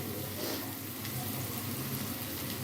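Tomato sauce frying in a pan, a steady close hiss of sizzling that runs unbroken with no voices.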